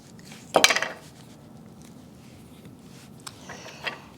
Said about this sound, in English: You just cut the avocado in half.